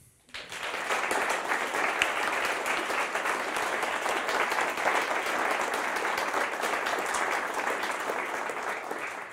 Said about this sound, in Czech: Tak já vás poprosím o krátký potlesk